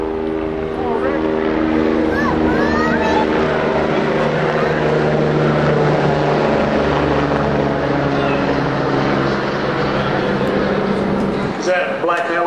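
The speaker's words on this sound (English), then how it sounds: "is that a black helicopter?" A loud, steady engine drone with a rhythmic rotor hum from a helicopter flying overhead persists throughout an outdoor rally in Austin, Texas, as a voice speaks over it.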